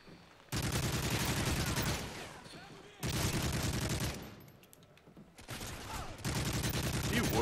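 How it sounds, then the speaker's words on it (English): Bursts of rapid automatic gunfire from a first-person shooter match, three loud sustained volleys separated by short pauses, with players talking faintly between shots. "What kind of shots were those?"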